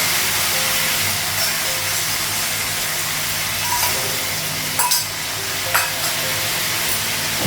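Ginger-garlic paste, cumin and coriander powder fried with potato and onion in a pan, a continuous close sizzle with steady hiss and a few sharp stirring clinks, no talk.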